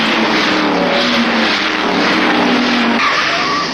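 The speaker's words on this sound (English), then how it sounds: "Moffat accelerates the GTHO to something around 140 miles per hour down Conrod" Ford Falcon GTHO race cars in the 1971 Bathurst race at Mount Panorama accelerate down Conrod Straight, their engines a loud, continuous, close roar that holds steady throughout, with no voices.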